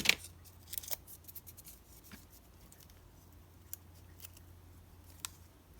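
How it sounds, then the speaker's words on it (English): A cellophane wrapper is peeled off a journal close by, with a burst of crinkling at the start and then sparse, quiet crackles and rustles separated by near silence. "I'm just removing that cellophane. We don't need it in there."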